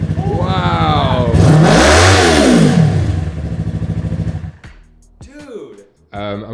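A freshly built Yamaha R3 motorcycle engine, baffle installed, fires up for the first time and revs hard, climbing and falling in loud rising-and-dropping sweeps. It settles toward idle, then blips again, with excited voices talking over the roar.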